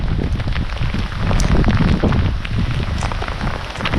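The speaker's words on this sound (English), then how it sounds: "Except for that hail's kind of stinging my face" Hail falling steadily outdoors in a maple woods, a dense, continuous patter of ice pellets striking surfaces nearby, with no voices.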